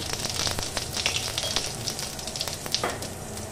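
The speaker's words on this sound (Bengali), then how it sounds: "এখানে আমি প্রথমে দিয়ে দিচ্ছি জিরা ফোড়নে।" Cumin seeds sizzle in hot oil while tempering for a dish of kachki fish and mixed vegetables, a dense, continuous crackling fry with scattered sharp pops throughout.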